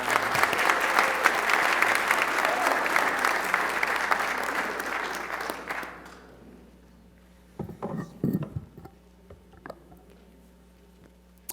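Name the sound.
applause for the last speaker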